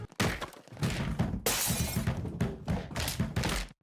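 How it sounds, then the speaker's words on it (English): A cartoon baby tumbles down a flight of stairs with a rapid run of loud bangs, cracks and crashing thumps, each impact hitting in quick succession with no talk. "You go flying down the stairs like a crash test baby. Every step, bang, bonk, crack, bonk."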